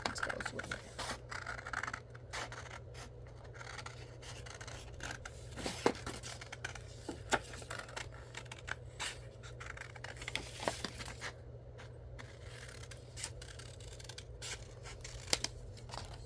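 Scissors cut out paper dragon scales, making soft, quiet snips and scratchy rubbing of paper that come in irregular bursts, close by, with faint speech now and then.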